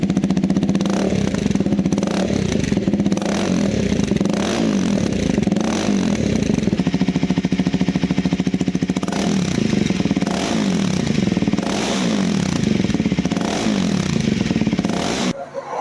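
KTM Duke Gen 3 motorcycle, a 250 or 390, fitted with an aftermarket Hexhaus exhaust in aluminium or titanium, revving loud and close in repeated raspy bursts over a steady rumbling idle, with no talking.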